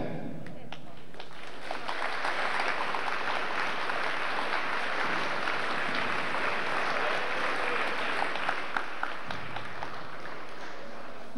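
Audience applause at a Finnish strongman competition ceremony, sustained clapping from a crowd filling the space, steady and dense throughout with a brief dip near the end.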